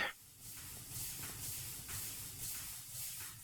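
A steam machine in the Minecraft TerraFirmaGreg modpack vents steam in repeated hissing bursts about every half second, steady and close, with no speech.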